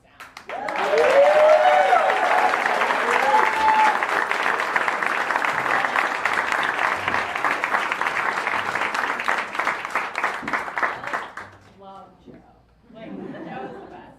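Live concert audience at Caffe Lena breaks into sustained applause with cheering and chatter, loud and dense for about ten seconds before fading, then a brief final burst.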